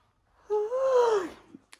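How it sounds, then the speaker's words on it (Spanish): A single drawn-out human yawn, close and alone, with a voiced rise and fall lasting under a second and trailing off into small mouth clicks. "Vaya bostezo, loco."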